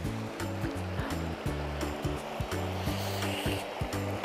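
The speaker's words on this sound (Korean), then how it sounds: "폭포가 시원하게 쏟아지니까" A large artificial waterfall, 95 m long, pours in a loud, continuous rush of water that fills the whole stretch, with a rhythmic, low-pitched musical beat underneath.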